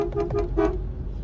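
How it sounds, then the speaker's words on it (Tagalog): A car horn sounds in short repeated toots, then a longer blast, heard close up from inside the car with a muffled, enclosed quality. "Ngayon yung tunog ng busina natin pag nasa loob"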